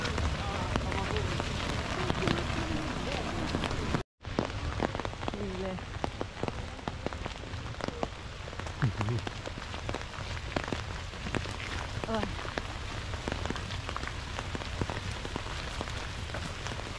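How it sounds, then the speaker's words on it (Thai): Steady rain falls in Kamikochi in the alpine western region of Nagano, a dense continuous patter on surfaces with a brief dropout early on, while faint voices murmur underneath. "มากับฝนฝนมาต้อนรับไม่มีหมีมาต้อนรับมีแต่ฝนมาต้อนรับ"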